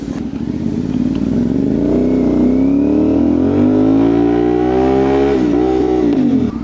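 A Kawasaki Z1000R motorcycle engine revs loudly and close up during a test ride, its pitch climbing and falling in steady harmonic sweeps with no one talking.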